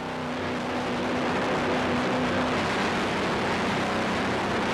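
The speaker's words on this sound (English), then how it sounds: "you can hear those Mercury power plants revving up as Gifford" Mercury racing engines on the Gifford Racing offshore powerboat roar steadily and loudly as the boat gets on plane, a continuous close-up drone with no talking.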